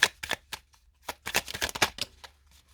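Tarot cards being shuffled and drawn at close range, a run of quick, crisp riffling flutters and slaps in uneven bursts over a few seconds, with no voice over them.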